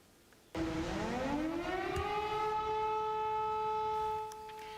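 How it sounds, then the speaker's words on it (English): An air raid siren sounds at dawn in Ukraine. It starts abruptly, rises in a wailing sweep, then holds a loud, steady tone before easing off. No one speaks over it. "That is the sound of sirens going off at dawn."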